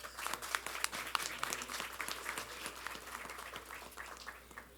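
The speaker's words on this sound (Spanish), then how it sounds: "Démosle un cordial aplauso al doctor Eduardo Oliva, por favor." An audience at an academic conference session on family types gives applause for Dr. Eduardo Oliva, fairly faint and a little distant, individual claps distinct within a scattered, uneven patter that tapers off toward the end.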